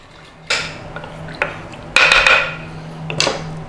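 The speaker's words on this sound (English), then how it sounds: "Then all we're going to do is give that a mix in there." A spoon clinks and scrapes against the inside of a crockpot while garlic and ginger paste is mixed, a few sharp knocks and scrapes over under four seconds, close and clear with a faint hum behind.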